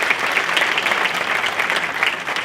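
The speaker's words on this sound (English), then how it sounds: "Give her a round of applause." Warm, dense applause from an audience at a community wealth event as a realtor is introduced, many hands clapping steadily and fairly loud for the whole stretch.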